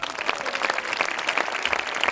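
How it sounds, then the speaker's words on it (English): An audience claps briefly after being asked, a short burst of dense handclapping at moderate loudness with a few distinct sharper claps. "Give a clap."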